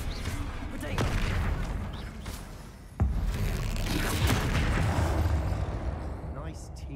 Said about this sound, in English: Bombarda, Depulso, Incendio.